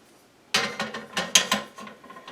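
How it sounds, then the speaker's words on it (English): A TV is lowered onto a wall mount bracket after a short silence, giving a quick run of close metallic clanks and ratchet-like clicks that fade into lighter taps. "After it's attached to the TV, we hang the TV on here like this"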